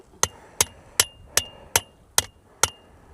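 A rock used as a hammer strikes something seven times in an even rhythm during a camping repair in the Flinders Ranges, each blow a sharp, close knock with a short ringing tail.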